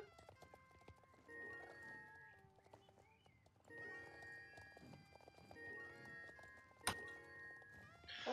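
A horse in the video game Star Stable Online is ridden in circles, with steady clip-clop hoofbeats and an occasional neigh over the game's soft tonal music.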